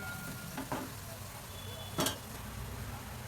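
Boiled egg bhurji with red chilli powder being stirred in a pan, a steady soft sizzle with a few brief scraping strokes of the spoon, close and fairly quiet.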